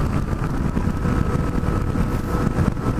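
Yamaha FJ-09 motorcycle engine on the move at road speed, a steady loud drone with heavy wind rush throughout and no clear gear changes.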